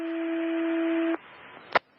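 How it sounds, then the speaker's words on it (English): Volunteer fire department dispatch tones over a radio scanner: a loud steady two-pitch tone holds for just over a second, then cuts off into static hiss, followed by a short sharp burst of squelch noise. "they're dropping the tones for the volunteer fire department in the background"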